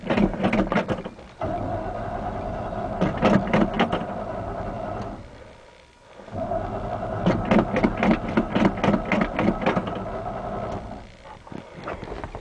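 A Chevy K20 truck engine cranks over with a steady, rapid rhythmic chugging from the starter, running in two long bursts separated by a brief pause, fairly loud and close with no talk.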